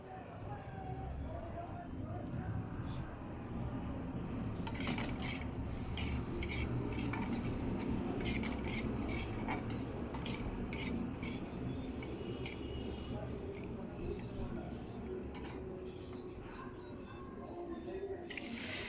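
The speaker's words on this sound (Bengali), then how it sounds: "আলুগুলো আমি হালকা ভাজা করে নেব।" Potatoes with salt and turmeric being stirred and lightly fried in a pan, a steady scraping and soft sizzle running throughout with occasional utensil clinks against the pan, heard up close with no talk over it.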